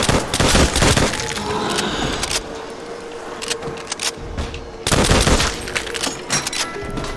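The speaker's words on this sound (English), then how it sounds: "who doesn't like the sound of an M1 Garand when the clip comes out?" M1 Garand rifle fire in World at War zombies mode: loud, close bursts of gunfire and clattering impacts in two clusters, with a quieter stretch of mechanical clicks between them and no talking.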